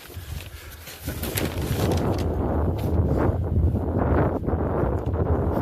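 Outdoor wind gusting against the microphone in a town street near a cathedral, a steady low roaring buffet that rises after the first second and stays strong throughout.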